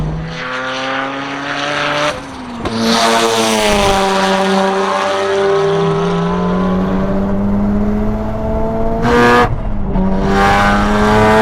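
A fast car at full throttle on a race track, one of an RX7, Mk4 Supra or R32 GTR, with a loud, steady engine note that climbs through the gears, broken by brief shift dips and a lift near the end.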